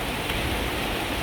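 Rain falls in the early evening, making a steady, even hiss of drops on surfaces, close and continuous with no voices.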